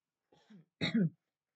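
A single man clears his throat in two short, rough bursts, the second louder and harsher, close to the microphone against silence.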